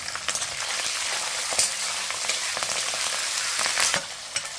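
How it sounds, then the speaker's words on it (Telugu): Green chillies, chopped onion and curry leaves hit hot oil with red-fried peanuts, a close crackling sizzle with sharp pops and spatula stirring throughout. "పల్లీలు ఎర్రగా వేగిన తర్వాత పచ్చిమిర్చి, ఉల్లిపాయ ముక్కలు, కరివేపాకు,"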